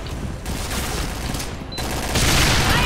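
Gunfire in a bomb-planting shooter game: dense, continuous bursts of shots with a steady roar of firing that grows louder toward the end, close and heavy, with no clear speech.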